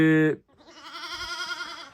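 A newborn twin lamb bleats loudly up close, first a short cry and then a longer, wavering bleat, with no other sounds around it.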